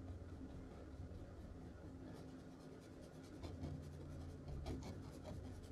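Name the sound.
paintbrush scrubbing paint onto canvas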